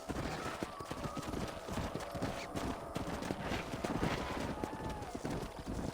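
Horse hooves clip-clop steadily in Red Dead Redemption, a dense run of rapid beats under an ongoing game soundscape with a voice talking.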